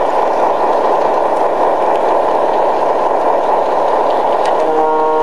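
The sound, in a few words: model railroad train running on track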